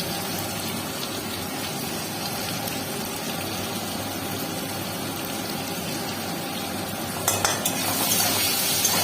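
Vegetables sautéing in a pan, including ridge gourd with salt and turmeric. A steady loud frying hiss runs throughout, with a brief clatter of stirring near the end. No one speaks.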